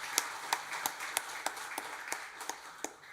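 A small church congregation claps in thanks after a Sunday service, a sparse, moderately quiet run of separate hand claps at an uneven, loose rhythm with no voices.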